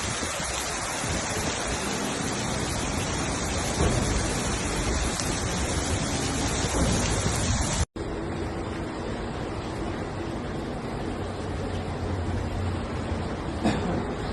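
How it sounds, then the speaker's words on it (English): Heavy rain pours steadily at a flooded Barcelona El Prat airport terminal, a dense continuous roar of water with no pauses, briefly broken by a single cut midway. "experiencing flooding on Monday, November 4th due to intense and heavy rains in the area"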